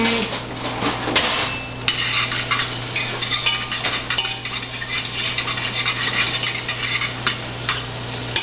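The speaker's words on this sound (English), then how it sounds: "we'll get the onions translucent and get the garlic a little roasted in this oil" Onions and garlic frying in oil, stirred with a spoon, loud and close, a constant sizzle under scraping and clinking of the spoon against the pan, steady hum beneath, no talking.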